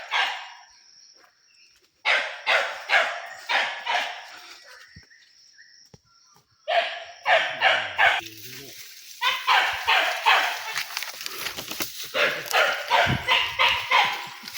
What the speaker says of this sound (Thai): เห่าเลยทุกคนเลย